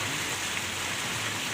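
Heavy evening rain pours down outdoors as a dense, steady roar of drops hitting surfaces, loud and unbroken throughout with no voices.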